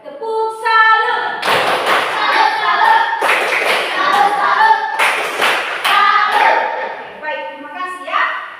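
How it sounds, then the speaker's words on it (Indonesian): A classroom of children performs a patterned salute-clap routine: bursts of rhythmic group clapping separated by short pauses, with kids' voices chanting and talking between and over the claps, close and lively. "Baik, tepuk salut."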